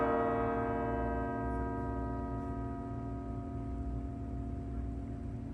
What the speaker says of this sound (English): Can you hear each bell's long tone? Ann Arbor has several bell towers, but the most famous is Burton Tower.